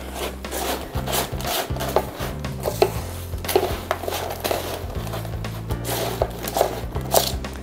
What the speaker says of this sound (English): So you just want to toss it with 2 rubber spatulas.